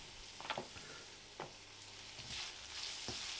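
Carrots, celery and green pepper stir-frying in a hot wok for kung pao chicken, a steady bright sizzle broken by a few scraping stirs and tosses, close and moderately loud with no voices.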